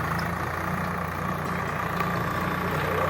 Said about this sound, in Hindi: यहाँ इस प्रकार से खेत में चारों तरफ गोल राउंड लगा रहा है ट्रैक्टर